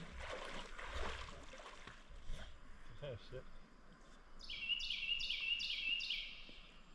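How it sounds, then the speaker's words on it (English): A bird sings outdoors beside water on a Tennessee trip. A series of four or five bright, repeated whistled notes rises out of steady background noise near the end, following some soft handling sounds. "That was a pretty sounding bird."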